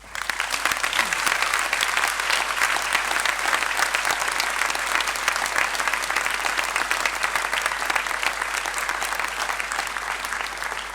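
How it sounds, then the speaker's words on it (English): An audience at a university graduation ceremony applauds family and friends with steady, dense clapping that fills the hall and holds at an even level throughout. "So graduands and lecturers, a round of applause for the family and friends."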